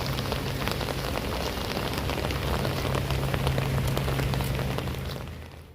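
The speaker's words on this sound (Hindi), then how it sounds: "तो बारिश जो है ना, वो अभी भी लगातार हो ही रही थी।" Steady rain falls and patters on surfaces, a dense, even hiss that fades out at the end.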